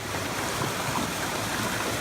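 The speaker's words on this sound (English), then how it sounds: "This was Islington's 5 a.m. alarm call, the sound of rushing water" Water from a burst high-pressure main on Upper Street in Islington gushes in a steady, unbroken rushing roar at dawn, with no voices.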